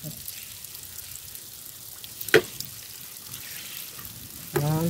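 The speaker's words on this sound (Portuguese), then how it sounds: "A água já caindo aqui embaixo." Water dripping and trickling out beneath a raised garden bed, a soft steady patter with a few sharper drips, quiet and close, with a brief voice near the end.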